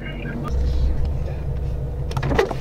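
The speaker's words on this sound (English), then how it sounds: "I hear your car now." A car arriving outside gives a low, steady engine rumble at moderate distance, with voices heard over it.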